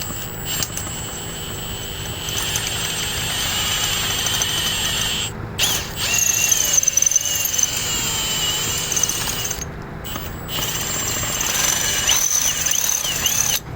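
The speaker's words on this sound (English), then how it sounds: "we're trying to drill off center slightly" A power drill whines steadily into metal with a bit, drilling slightly off center for a generator handle, with a grinding, ratcheting texture, brief pauses and restarts, close up with no talking.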